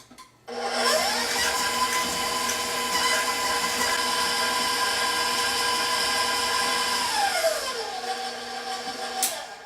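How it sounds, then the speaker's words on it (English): An electric mixer whirs steadily through cookie dough for chocolate crinkles and gingerbread, starting abruptly, holding a loud continuous motor whine, then winding down near the end. "now I'm going to mix that until it's nice and fluffy"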